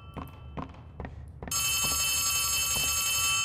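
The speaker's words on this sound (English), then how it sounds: "Oh, phone call. Where's the phone?" In the video game Poppy Playtime Chapter 3, a telephone starts ringing after several dull thuds, a sustained loud electronic ring that holds steadily to the end.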